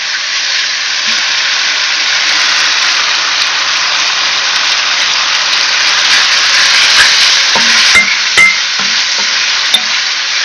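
Meat neck pieces being stirred in a pan, giving a loud, steady hissing sizzle that fills the whole stretch, with a few utensil scrapes and knocks near the end, close up and without speech.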